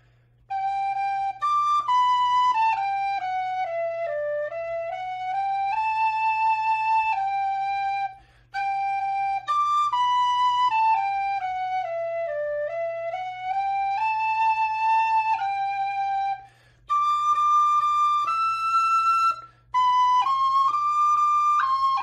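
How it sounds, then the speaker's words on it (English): A high D tin whistle plays the slow, stately hymn "Praise to the Lord, the Almighty" alone, clear and steady, with brief pauses between phrases. "I'll play it for you finally on my other high D whistle"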